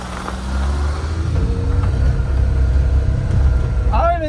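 Suzuki Carry mini truck in 4-wheel drive with the axle lock on, crawling uphill in first gear: a steady, loud low engine drone and drivetrain whine, with people talking over it throughout.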